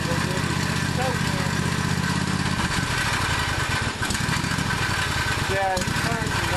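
A 1998 Husqvarna riding lawn mower engine runs with the choke partly out, a loud, steady, close droning with slight surging up and down, while a person talks over it.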